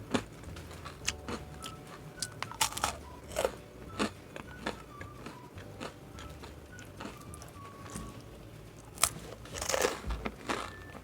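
Someone bites into crisp black rice grissini breadsticks baked for about 20 minutes, making a series of sharp, close crunches followed by crackly chewing, spaced irregularly and otherwise quiet.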